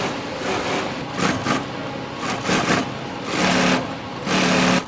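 A sewing machine stitches Rolls-Royce car upholstery in steady bursts of rapid mechanical chatter, running in several short runs with brief pauses between them, close and fairly loud.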